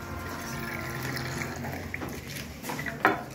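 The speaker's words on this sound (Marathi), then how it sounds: "हा मी वॉटर टँक बनवलेला आहे. चालू करंटच्या साहाय्याने बॅटरी जोडलेली आहे आणि असं पाणी आहे." Water runs in a student's battery-powered model water tank at a school science exhibition, a soft steady trickle and gurgle under faint background hum, with a small splash near the end.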